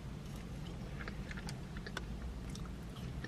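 Someone chewing Taco Bell seasoned chips close to the mic, soft crunchy bites scattered over a few seconds against a low background rumble.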